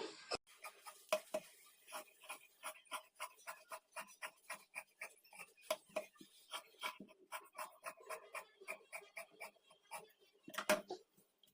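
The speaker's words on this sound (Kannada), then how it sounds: "ಈಗ ನಾನು ಇದನ್ನು ಕಟ್ ಮಾಡ್ಕೊಳ್ತೀನಿ" Scissors cut blouse fabric into strips for hemming patti, giving a close, rhythmic series of crisp snips at a steady pace, with brief pauses and a few louder handling knocks.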